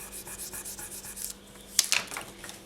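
Soft, close rubbing strokes of paper dragged along the firm edge of baked polymer clay, a rhythmic series of light scrapes followed by a few sharper brushing sounds.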